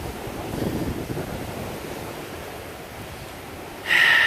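Rough sea waves break along the stormy coast at São Martinho, a steady wash of surf and wind noise that surges with a sudden loud gust near the end.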